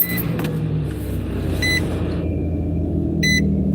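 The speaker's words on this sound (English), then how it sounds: "I'm going to turn this truck on for my guys." A pickup truck's engine starts and settles into a steady low idle, warming up outdoors by a bridge while fishing for catfish, with a few short electronic beeps from the truck sounding over the running motor.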